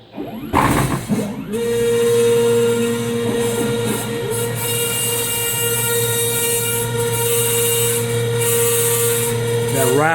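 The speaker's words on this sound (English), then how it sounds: "that rattling you hear in here" A large Fine Line Automation 4x4 CNC router runs with a steady loud mechanical drone and a continuous rattle from the threaded rod, sounding close and sustained throughout.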